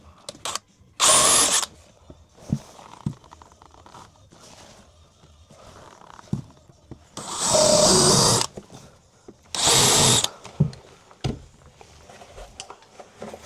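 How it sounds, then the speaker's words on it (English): A power drill fitted with a countersink bit whirs in three short, loud bursts into a stair post while installing spindles, separated by quieter handling noises. "Grab yourself a countersink drill bit."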